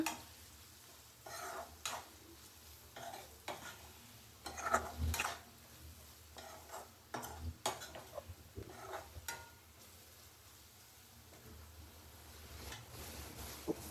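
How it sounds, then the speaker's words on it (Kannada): Vegetable noodle ingredients stirred and mixed in a pan, soft sizzling under a steady hiss with scattered scraping and tapping of a utensil, faint and close. "ಇಷ್ಟನ್ನ ಹಾಕಿ ಸ್ವಲ್ಪ ಈ ತರ ಮಿಕ್ಸ್ ಮಾಡ್ಕೊಳ್ಳೋಣ."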